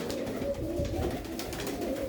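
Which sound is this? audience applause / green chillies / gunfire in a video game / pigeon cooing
pigeon cooing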